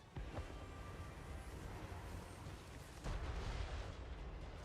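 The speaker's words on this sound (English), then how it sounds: "The Sisters brought down by magma cannon fire" Magma cannon fire booms across a Total War: Warhammer III battlefield: a dense, rumbling barrage of blasts with sharp impacts near the start and a heavier surge of explosions around the three-second mark, with no talk.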